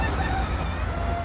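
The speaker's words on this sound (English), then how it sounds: "because I have too many roosters." A rooster crows in a backyard chicken coop during morning chores, a drawn-out call heard amid steady background noise from the flock.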